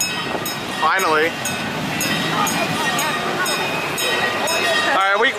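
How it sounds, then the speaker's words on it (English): A train rolls past at an amusement park, a steady rumbling roar with wheel squeals throughout, while people talk and shout excitedly over it. "The train's coming, guys!"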